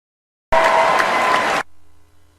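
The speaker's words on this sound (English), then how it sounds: "Just eating up the applause." A burst of audience applause, loud and dense, cutting in abruptly and stopping just as suddenly after about a second, followed by near silence.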